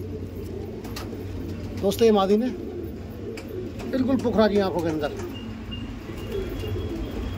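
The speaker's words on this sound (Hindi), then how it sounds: "बिल्कुल खड़ी तकती प्योर सहारनपुरी कबूतर है दोस्तों" Saharanpuri pigeons, a breeding pair, coo in two rolling bursts, close by and fairly loud, while someone talks over them throughout.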